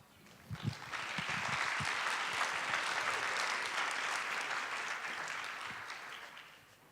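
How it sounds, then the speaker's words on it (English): A crowd bursts into applause, dense clapping that swells quickly, holds steady for several seconds, then slowly fades. "give us a huge round of, a big, massive round of applause"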